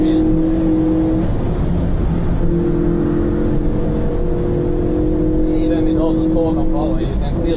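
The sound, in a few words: Ford Focus RS500 rally car accelerating through gears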